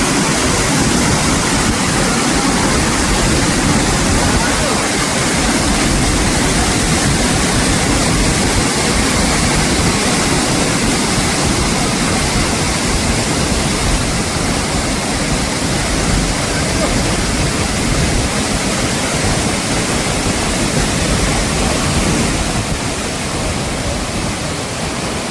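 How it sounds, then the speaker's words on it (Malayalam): Soochipara waterfall in Wayanad roars as a loud, unbroken wash of falling water that holds steady and close for the whole stretch. "ദിനേന ഒരുപാട് വിനോദസഞ്ചാരികൾ വന്നു പോകുന്ന ഒരു സ്ഥലമാണ് സൂചിപ്പാറ വെള്ളച്ചാട്ടം."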